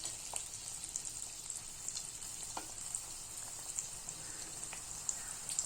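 Kandharappam batter frying in oil in a kadai over a medium flame, a soft, steady sizzle with faint bubbling pops throughout, heard alone and at low volume.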